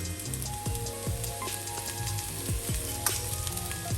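Potatoes fry in a pan with a steady, dense sizzle and scattered pops and crackles of hot oil, close and continuous throughout.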